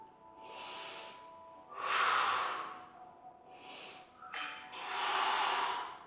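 Slow, deep inhalations and exhalations during a Pilates mat exercise, close and fairly soft, rising and falling in long swells with no talking.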